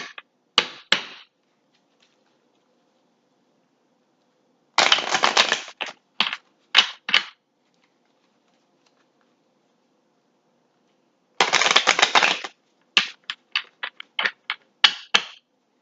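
Cards being shuffled in quick riffling bursts, a few separate shuffles with crisp flutters and taps, close by and in otherwise quiet surroundings.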